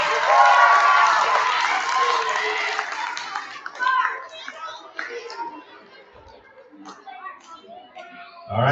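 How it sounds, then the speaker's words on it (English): An elementary school audience applauding the spellers at a spelling bee, a loud burst of clapping and cheering that fades over several seconds, with children's voices around it. "Another round of applause for those so indeed."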